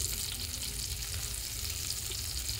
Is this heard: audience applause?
no